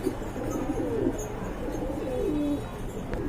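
Pigeons in a loft coo in low, soft, repeated calls, close by over a steady background hum, several birds overlapping.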